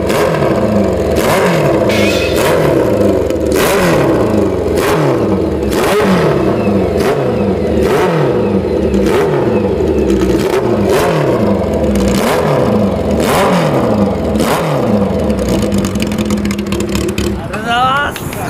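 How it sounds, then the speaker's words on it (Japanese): A motorcycle engine revs steadily through a vintage Higashijima Beat aftermarket muffler, a deep, throaty exhaust with the pitch climbing and dropping in repeated pulses, loud and close throughout. "こちらが東島のビートマフラーのサウンドですよ"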